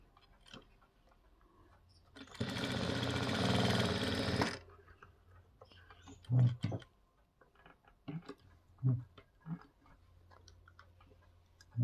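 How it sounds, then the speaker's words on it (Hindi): A sewing machine running a flat seam on a blouse hook strip, one sustained burst of rapid mechanical stitching for about two seconds, followed by quiet handling clicks and thumps. "तो पहले हम इसको यहाँ पे एक चपटी सिलाई लगाएंगे"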